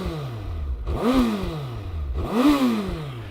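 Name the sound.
2025 Suzuki Hayabusa motorcycle stock exhaust revving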